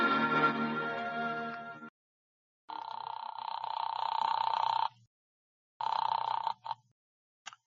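An old-fashioned telephone bell rings in loud, separate bursts, each lasting a second or two with silent gaps between, the last one clipped short, as a sound effect in a radio drama.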